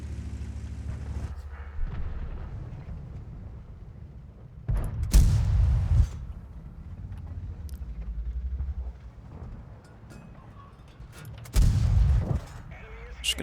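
Two heavy tank cannon shots in the World of Tanks video game, fired by an FV4202 several seconds apart, each a deep booming blast over a low engine rumble.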